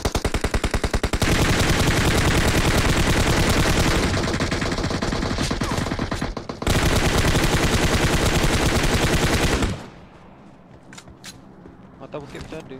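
PUBG Mobile gunfire: long, loud, rapid automatic bursts of rattling shots for most of the stretch, then fading to quieter, sparser game sounds with players talking over it.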